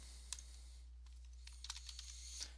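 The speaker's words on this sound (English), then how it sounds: "I'm going to start typing Jason." Typing on a computer keyboard, a few scattered quiet clicks followed by a brief run of keystrokes, faint and close, over a low steady hum.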